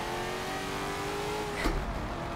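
In a driving video game, the engine of a Chevrolet Corvette drift car, the Stratton FD DriftVette, revs hard on a Dubai track. Its tone climbs steadily, then a sharp burst of revving and tire noise flares near the end.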